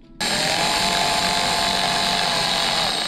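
Power tool whirring steadily while tightening bolts on a BMW R1200 GSA motorcycle during a brake rotor service, starting abruptly after a brief quiet moment and running loud and continuous, close by, with no talking.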